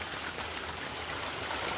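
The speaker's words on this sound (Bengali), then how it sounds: "আর এখন আবার বৃষ্টি পড়তেছে" Rain falling steadily, a dense even hiss of drops on surfaces with no voices, continuous and moderately close throughout.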